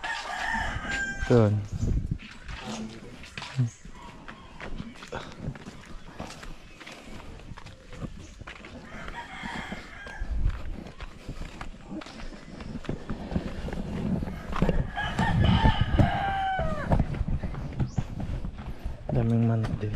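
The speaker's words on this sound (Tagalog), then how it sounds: "Daming manok dito." Roosters crowing among many chickens at a rural yard in Cebu, several crows rising at intervals over clucking and background noise, with people talking nearby throughout.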